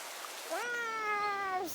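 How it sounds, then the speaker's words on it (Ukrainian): A cartoon cat from an animated series gives one drawn-out meow in a battle scene against rats, a clear, steady tone that holds for about a second over a faint background hiss. "Троє новаків билися вже як справжні вояки проти цих злих щурів."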